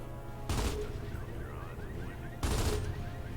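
Rifle and pistol gunfire in Gears of War 2, two sharp bursts of shots about two seconds apart, separated by quieter game ambience.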